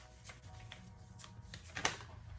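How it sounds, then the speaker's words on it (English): Tarot cards being shuffled by hand, a string of soft papery riffles and slides with one sharper snap near the end, close and fairly quiet with no talk. "we're gonna ask the tarot or spirit and shuffle and see what we get"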